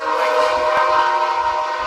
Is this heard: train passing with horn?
yes